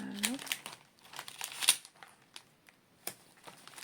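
A paper envelope crinkles and rustles at close range while being put into a budget binder, giving soft crackling bursts under quiet speech.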